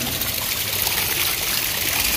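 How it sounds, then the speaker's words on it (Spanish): A small trickle of boiling hot spring water at the Luna Jaguar spa in Copán, a continuous close splashing hiss with no voices. "Este chorrito de agua se ve inofensivo, pero está hirviendo."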